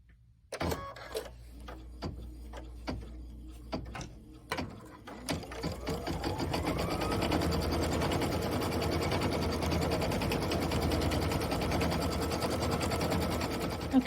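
An embroidery machine quilts a background design on fabric, starting with scattered clicks and mechanical taps before settling into a steady, close, rapid stitching rhythm that continues to the end.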